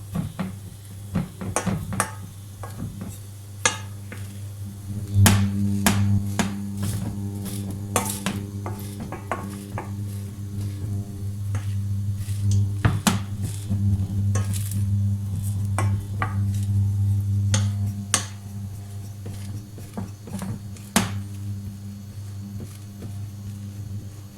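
A wooden spoon presses and scrapes tapioca starch flatbread in a pan, with repeated knocks and scrapes over a steady low hum and faint sizzle throughout.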